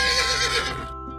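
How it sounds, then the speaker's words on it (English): A horse whinnies loudly and close, a single descending neigh with a faint clip-clop of hooves beneath, trailing off into quiet. "Horse."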